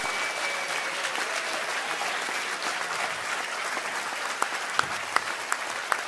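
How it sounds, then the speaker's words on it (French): A crowd at an Emmanuel Macron political rally in Clermont-Ferrand claps steadily and vigorously, a continuous roar of applause with a few sharp, louder individual claps standing out near the end. "Je vous demande de les applaudir très très très fort."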